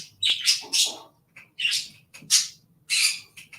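Close, loud parrot squawks come in a quick series of raspy bursts, each brief, separated by short gaps, with no talking.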